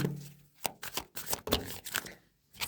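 Tarot deck being shuffled and cards drawn, a run of quick papery riffles and slaps in bursts, close and clear with no voices.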